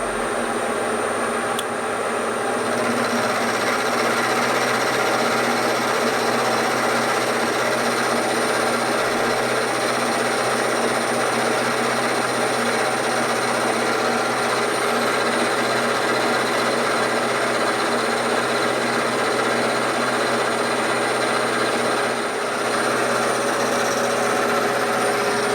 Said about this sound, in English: Just use the angle grinder. We've got one set up here, so I'm just going to skim this top face